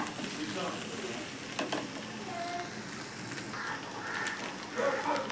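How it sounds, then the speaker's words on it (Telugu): Prawns fry gently in hot oil, giving a continuous close crackling sizzle with scattered sharper pops throughout. "నీట్గా ఫ్రై చేసుకోవాలండి, ఎక్కువ కదిపించకూడదు, పొడిపోతాయి, ఉడుకుతాయి"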